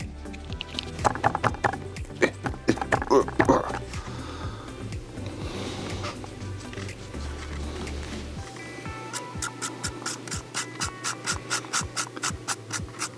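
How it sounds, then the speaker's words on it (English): Dry paintbrush dragged across corrugated model siding, laying lead belcher paint ahead of rust weathering, giving close, repeated scratchy rubbing strokes that turn crisp and evenly rhythmic near the end. "I want to dry brush some lead belcher before I do the rust"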